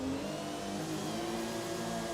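A car engine revs hard in a racing video game, a loud continuous mid-pitched drone with shifting harmonics across the whole stretch.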